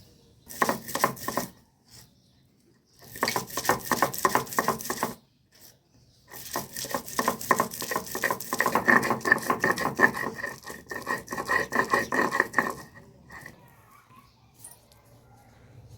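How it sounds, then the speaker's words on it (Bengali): Cauliflower and cabbage leaves are ground with mustard into a paste, giving repeated rough scraping and rubbing bursts in uneven rhythm, separated by short pauses, close and fairly loud. "আমি এখানে যে সর্ষেটা বেটেছিলাম সিম পাতরি জন্য আমি তার মধ্যেই পাটাটা এখন বেটে নেব"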